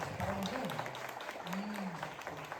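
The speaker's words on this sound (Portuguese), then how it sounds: "Vamos aplaudir a palavra de Deus?" A congregation at a Catholic triduum evening service applauds in a steady, dense wash of clapping, while a voice carries on over it.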